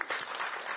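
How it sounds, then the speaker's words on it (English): A short burst of applause at a festival, dense clapping from a crowd, loud and close. "everybody speaking should give themselves a round of applause"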